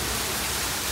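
Steady rain hisses in a dense, even wash for about a second, with no voices and no breaks.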